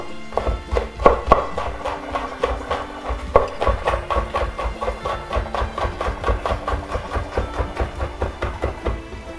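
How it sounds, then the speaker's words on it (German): A knife finely chops onions on a board: a steady, close, rapid series of crisp taps that keeps an even rhythm throughout. "Ich schneide sie mal ein bisschen feiner."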